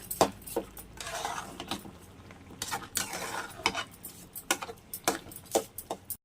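A spoon stirring kalimikaya dal in a pot, with repeated sharp metallic clinks and scrapes against the vessel in an irregular rhythm, close and fairly loud.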